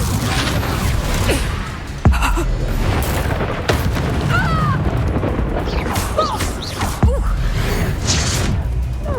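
The Confringo fire spell blasts in the Hogwarts Legacy video game, heavy booming impacts hitting at intervals over a busy background of whooshes, crashes and battle effects, loud and dense throughout.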